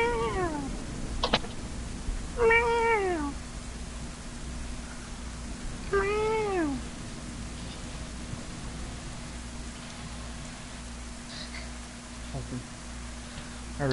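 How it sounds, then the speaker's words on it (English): A pet cat meows in several drawn-out, rising-falling calls spaced a few seconds apart, fairly close, over a steady low hum and background noise. "I'm letting my cat out."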